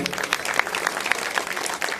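Audience at a kirtan bursting into loud, dense clapping, a continuous patter of many hands filling the room at close range.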